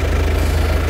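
A 2015 Hyundai Tucson 1.7L diesel engine runs at a steady idle, a loud, close, continuous low rumble with an even rhythmic pulse and no voices.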